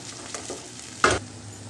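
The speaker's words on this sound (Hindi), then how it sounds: "तो अब हम इसको मज़ीद 5 मिनट जो है इसको अच्छी तरह से भूनेंगे" Hyderabadi-style dum keema, minced meat frying in a pan with faint sizzling and a couple of soft stirring scrapes, one louder clatter near the end, close and alone with no talk.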